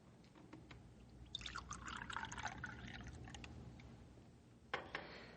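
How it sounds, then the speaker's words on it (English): Coffee poured from a pot into a cup, a steady liquid stream filling for a few seconds and ending with a brief clink, heard up close in a quiet room. "Here, I pour you one more cup of coffee, Rick."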